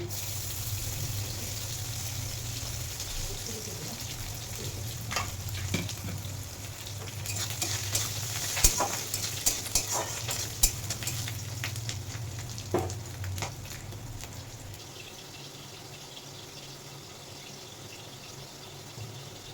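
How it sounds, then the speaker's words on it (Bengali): Continuous sizzling of onion and garlic frying in a pan, with scattered clinks and scraping of stirring, fading somewhat toward the end. "পেঁয়াজ আর রসুন ভালোভাবে ভাজা হয়ে গেছে"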